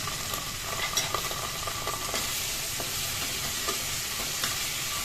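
Cumin seeds, dried chili, chopped tomato and bay leaf fry in oil in a wok, giving a steady, soft sizzle with occasional stirring scrapes, heard close and alone.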